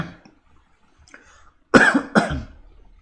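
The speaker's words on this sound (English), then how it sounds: "A little bit of a cough." Two sharp coughs close to the microphone during a live online word-game championship broadcast, following a quiet stretch with faint background noise.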